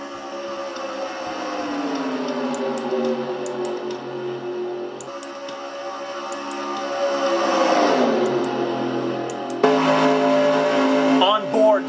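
NASCAR race car engines at Daytona in NASCAR Racing 2003 drone continuously at high revs, a steady buzzing roar that shifts pitch as cars pass and draft, with a louder surge near the end.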